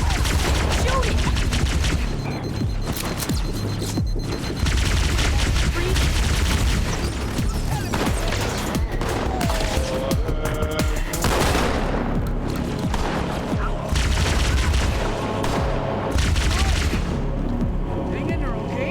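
Dense, sustained gunfire from the Halo 2: Anniversary video game, rapid overlapping shots and booms running loud throughout, with shouted voices mixed into the battle.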